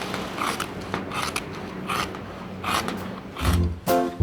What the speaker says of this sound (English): Listen to the sound of the scissors.